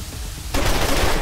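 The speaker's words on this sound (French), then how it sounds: "Il a tiré sur Jack" Rapid bursts of automatic gunfire in the video game Wasteland 2 Director's Cut break out suddenly after a brief moment of quieter background noise, continuing loudly to the end.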